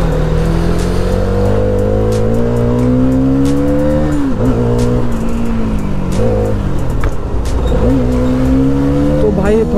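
A Hero Karizma XMR 210 motorcycle on a test ride revs hard through its gears, the loud engine note rising and dropping with shifts, recorded close with constant wind rush and no talking over it.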